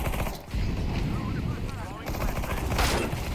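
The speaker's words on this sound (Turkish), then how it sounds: "Baksana adam tek tek sıkıyor" Gunfire in the video game Counter-Strike 2, dense rapid shots firing nearly continuously and loud throughout, with a brief gap near the start and a voice talking faintly underneath.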